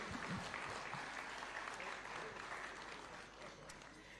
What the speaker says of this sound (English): A round of applause as they pick these awards kindly.